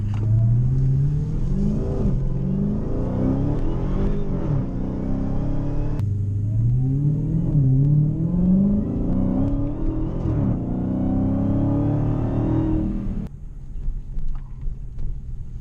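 A 500HP Dodge Magnum's engine revs up in repeated climbing pulls as the car drives off, loud and near, before easing to a lower rumble at the end.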